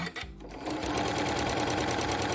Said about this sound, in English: we're going to just go all the way around the perimeter of our little quilt here